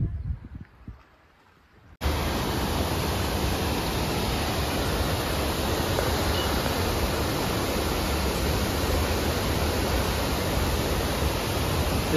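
Monsoon water rushing near the Kondeshwar Mahadev temple in Badlapur, a loud, continuous, broadband roar that cuts in abruptly after a short quiet start and holds steady.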